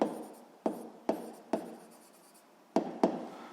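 Handwriting a physics spring-problem solution, pen or chalk scratching steadily in short bursts broken by distinct taps as each new stroke begins, close and fairly quiet with no voices.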